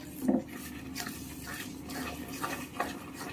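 Soft scraping of a spoon stirring milk into a peanut barfi mixture in a pan, with a few light clinks of utensil on metal, quiet and close.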